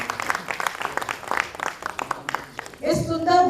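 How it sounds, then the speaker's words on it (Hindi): An audience breaks into loud applause for the director at a theatre play, sustained clapping that swells at the end, just after a presenter speaks over a microphone. "इसके साथ एक ज़ोरदार तालियां इस नाटक के निर्देशक अवतार साहनी जी के लिए"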